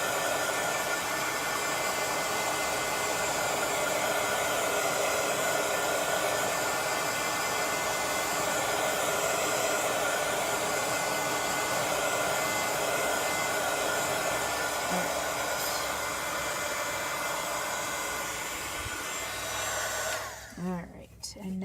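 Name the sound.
heat tool blowing hot air to dry shoes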